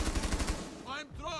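Gunfire in a video game: a rapid burst of loud, closely spaced shots in the first half-second, followed by a brief reverberant tail and faint tonal game sounds.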